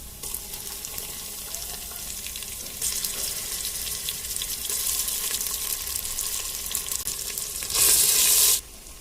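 Mutton or beef with spices fries in hot oil inside a pressure cooker, a steady close sizzle with stirring scrapes and a sharp louder hiss burst near the end, no voices.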